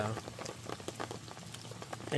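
Rain patters steadily on a surface outdoors during a wet hunting trip, a soft continuous hiss of drops with faint sounds of movement nearby.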